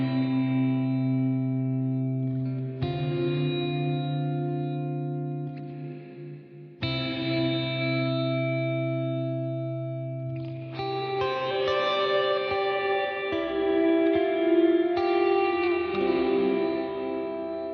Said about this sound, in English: So you can kind of hear on this refract mode, there's like this modulated sound that can be really nice